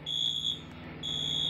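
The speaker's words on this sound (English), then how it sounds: "someone just pulled the fire alarm, did they?" A fire alarm in the Roblox game ERLC sounds in two shrill electronic bursts separated by a short gap, fairly quiet and with no talk over it.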